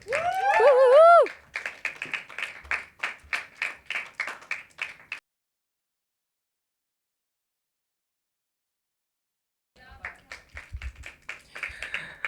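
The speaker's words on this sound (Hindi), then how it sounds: "बहुत धमाकेदार ताली होनी चाहिए इसके लिए, तो बजा दो यार" At an open mic poetry night, a small audience claps in distinct, fairly close bursts after a brief vocal sound, then falls silent for several seconds before a second round of scattered clapping begins.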